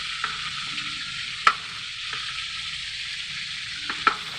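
Pork frying in a pan without being boiled first and sticking to the bottom, a steady hiss of oil with a few sharp clicks of a utensil stirring and scraping, close and continuous.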